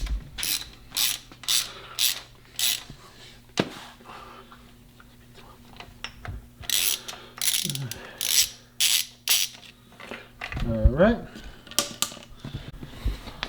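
On a 12V VR6 build, a ratchet loosens a stubborn fastener on a shifter cross rod, heard as close clusters of sharp clicking strokes separated by pauses, with someone talking in between.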